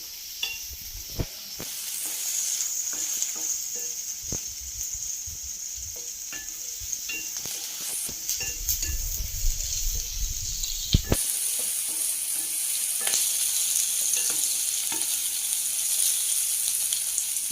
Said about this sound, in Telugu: సగం పడి వేగాలండి ఉల్లిపాయలు.